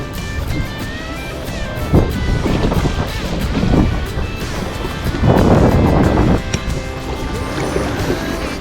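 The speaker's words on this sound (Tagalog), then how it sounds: "napakalakas po ng hangin mga kaibigan" Strong wind roars and buffets across the microphone in a steady, loud rush, swelling in gusts, with no voices.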